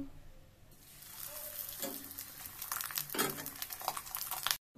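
Luchi puffing in hot oil gives a steady close sizzle and crackle, swelling louder at a couple of moments as the dough hits and bubbles, then cutting out briefly near the end.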